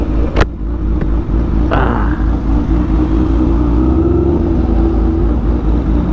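A sportsbike engine idles and revs in heavy traffic in Dagupan City, a close, loud low rumble with a few sharp clicks early and a steady whirring tone swelling toward the middle.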